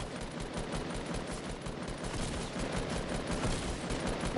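Continuous rapid gunfire from a video game shooter, dense rattling bursts of automatic weapons firing nonstop at close range, loud and unbroken throughout with no talk over it.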